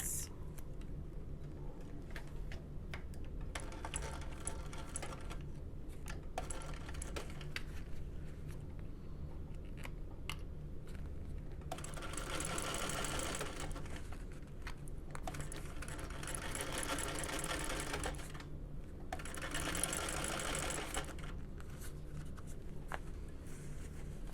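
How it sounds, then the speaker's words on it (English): A sewing machine stitches a 3/8-inch seam along a curve on a Baby Belle bucket bag, running in steady bursts with brief pauses between runs at a fairly quiet, even level. "now we're gonna sew that at 3/8"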